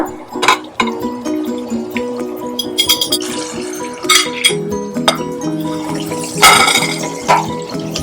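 Spoonfuls of ground coriander, black pepper and garam masala go into beef in a pan for beef varattiyathu, with repeated close metallic clinks and scrapes of a spoon against the pan and a faint wet sizzle underneath.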